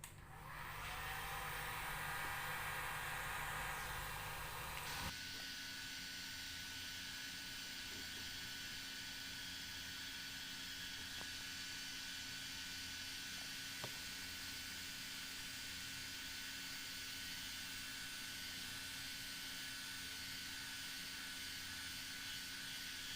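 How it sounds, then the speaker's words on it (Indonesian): A hair dryer blows steadily to dry homemade natural acid-base indicator paper, a loud broadband rush for about five seconds, then a quieter continuous hum with a faint tonal whine that persists to the end. "hair dryer."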